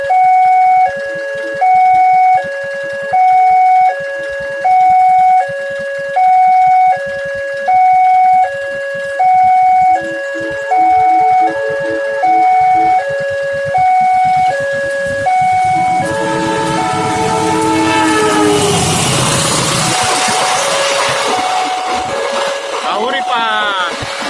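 Train horn blasts at a railway level crossing in Tulungagung, Rejotangan: a string of evenly spaced, loud two-tone honks, then a locomotive's roar rises and passes close by.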